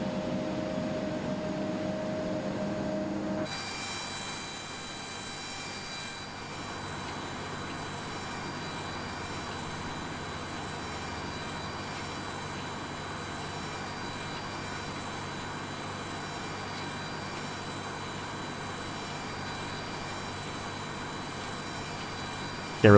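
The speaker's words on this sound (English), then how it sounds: "Engine number 2 will go start." An Embraer E-Jet's number 2 engine spools up in Microsoft Flight Simulator 2020, a steady broadband whine and roar with high tonal lines that holds at an even level for over twenty seconds after an abrupt shift early on.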